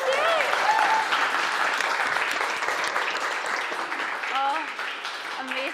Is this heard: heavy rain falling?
no